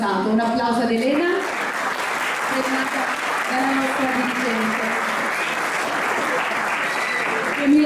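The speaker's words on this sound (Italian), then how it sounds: "Un applauso ad Elena" Continuous audience applause at a sports award ceremony honoring a young equestrian athlete, steady and fairly close, with a voice talking over it at the start.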